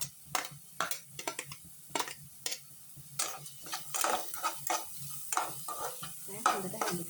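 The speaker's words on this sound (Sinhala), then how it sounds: "දැන් හොඳට හැඳි ගන්න." Spices being stirred in a cooking pan, a mix of salt, cinnamon, pandan and curry leaves, and chillies, with repeated scraping strokes of a spoon over a light sizzle. No one speaks.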